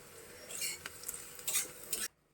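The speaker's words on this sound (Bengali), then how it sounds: "জল মিশিয়ে ডালটা ফোড়ন দেবো" Stirring and sizzling in a hot pan as lentils are tempered in oil, a few bursts of frying crackle and scraping, close by, then stopping abruptly.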